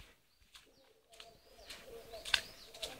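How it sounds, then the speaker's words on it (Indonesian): Birds call in a forest with scattered chirps and whistled notes, a few at a time and moderately distant, over quiet outdoor background. "ada burung lagi tuh."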